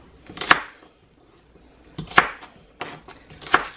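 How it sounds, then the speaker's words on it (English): Knife chopping celery and vegetables into big chunks on a cutting board, three sharp close thunks spaced well apart with quiet gaps between, for an Italian roast dinner. "And I'm just going to cut these into big chunks too."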